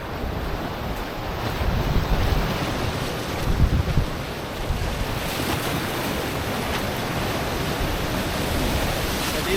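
Sea waves roll and break continuously at Redi Beach beside a fort bastion, a loud broadband roar with wind buffeting the microphone.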